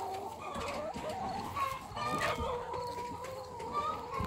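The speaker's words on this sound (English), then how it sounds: "Hello, chickens. These are the ones that lay eggs, I guess." Several egg-laying chickens at a chicken farm clucking and murmuring nearby in a continuous, busy stream, with faint farmyard noise around them.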